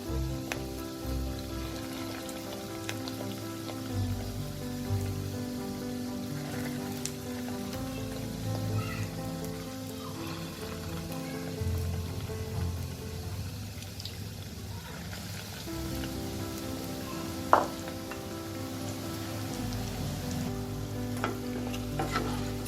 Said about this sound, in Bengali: গ্যাসের ফ্লেমটা লো রেখে এটা আমাদের ভাজতে হবে